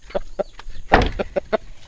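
A Belgian Asil chicken on a small farm gives a series of short, close clucks in an uneven rhythm, with one louder burst in the middle.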